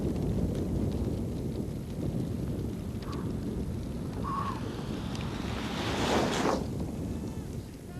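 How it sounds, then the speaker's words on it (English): Wind picking up on the mountain during the 1991 24 Hours of Aspen endurance ski race, a steady rushing gust buffeting the microphone throughout, with faint voices underneath. "the wind is starting to pick up"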